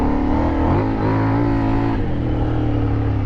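A Kove 800 Rally motorcycle riding through sand, its engine droning close and loud with a pitch rise and fall as the throttle shifts, with no talk over it.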